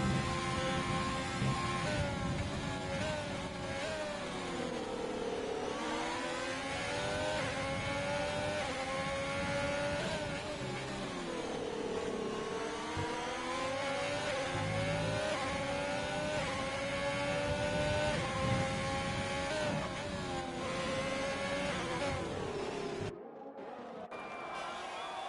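Ferrari Formula 1 car engine heard onboard in F1 2020 at the French race, a sustained high-pitched whine rising and falling with gear changes, loud and continuous before cutting briefly near the end.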